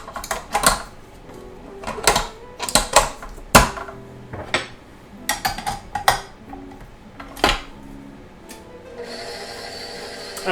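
A whisk or spoon clinks and taps repeatedly against a bowl while mixing dry ingredients for gluten-free cornbread, including baking powder, baking soda and salt, in irregular sharp bursts, then a soft hiss near the end.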